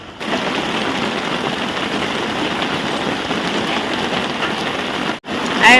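Heavy, steady downpour in a Gujarati village near Botad after many dry days, a dense continuous roar of rain on surfaces that holds loud and even throughout, breaking off briefly near the end before resuming.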